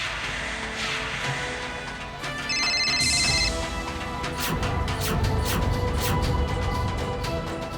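A telephone rings on and on without anyone answering, a steady electronic ringtone with repeated tonal pulses over background music and room noise, fairly loud throughout.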